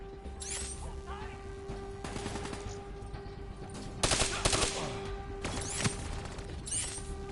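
Gunfire in the video game Black Ops 3, with repeated bursts of shots and a dense, loud volley in the middle, over steady game background hum and mechanical clatter.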